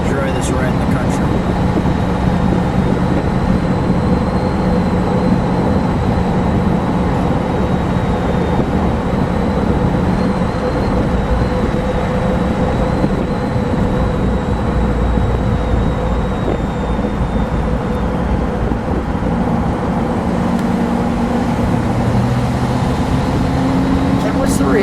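A supercharged 1957 Ford Fairlane 500 Skyliner with an F-code engine cruising on a country road, a loud, steady engine drone and road rumble from inside the car, with a person talking over it at times.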